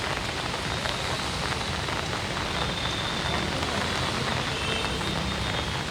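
Heavy monsoon rain pours steadily in Nashik, a dense unbroken hiss of drops beating on surfaces, loud and close with no voices over it.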